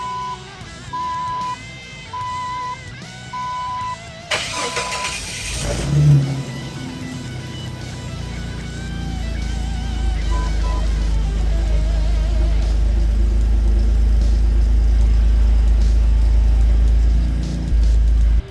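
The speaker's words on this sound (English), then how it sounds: "Now the Jeep is running as it should." A 2001 Jeep Wrangler TJ with the 4.0 engine cranks and fires, then settles into a steady, loud, close idle rumble that carries on alone to the end, with no talk.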